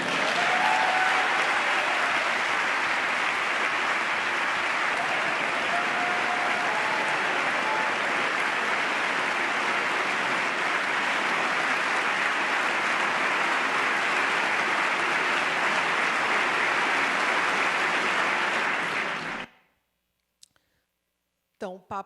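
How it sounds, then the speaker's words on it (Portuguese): A joint session of Congress gives the Pope a standing ovation, with dense, loud, sustained clapping from a large crowd that goes on for about nineteen seconds and then stops abruptly. "é aplaudido de pé novamente por 20 segundos"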